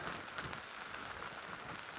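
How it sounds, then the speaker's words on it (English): Steady rain falls on an island campsite during a canoe camping trip, a dense, even patter across the whole stretch with no voices. "There's that rain they were threatening."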